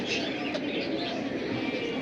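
A flock of pigeons in a loft keeps up a continuous low cooing wash, close and steady, with faint chirps mixed in.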